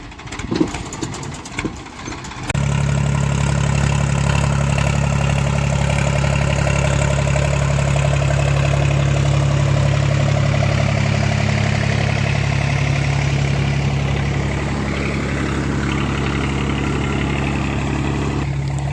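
A tractor engine idles steadily with a low, continuous rumble, preceded by a couple of seconds of rattling, clattering noise before the motor settles in.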